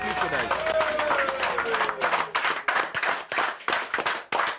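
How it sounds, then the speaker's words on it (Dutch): Applause for the mayor at a sailing-barge (skûtsje) event in Friesland: a loud, dense burst of clapping from a crowd, with a voice and a falling tone over the opening seconds, then continuing in uneven surges. "een dikke applaus"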